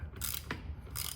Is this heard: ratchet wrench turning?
yes